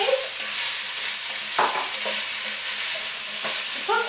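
Vegetables cooking in a pan for a Vietnamese shrimp and tofu curry, a steady close sizzle with a few brief stirring scrapes and soft clinks.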